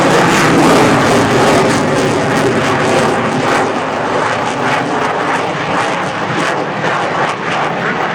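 A Spartan aircraft from the Italian Flight Test Center makes a knife edge flight pass at an air show, a loud, steady engine roar that fills the air close by and holds throughout.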